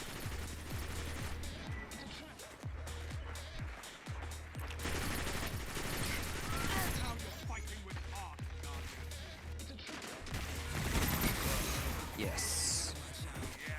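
Rapid auto rifle fire in a Destiny 2 PvP match, repeated bursts of loud gunshots with clattering impacts throughout, with someone talking between and over the shots.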